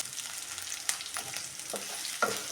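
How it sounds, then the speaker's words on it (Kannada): Green chillies fry in hot oil with a faint, steady sizzle, broken by a few light stirring scrapes close by. "ಈ ಥರ ನಾವು ಫ್ರೈ ಮಾಡ್ಕೋದ್ರಿಂದ ತುಂಬ ಚೆನ್ನಾಗಿರುತ್ತೆ"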